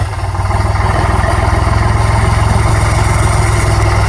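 A tractor loaded with sugarcane drives through standing floodwater, its engine a loud, steady, close low rumble that runs unbroken throughout with no talk.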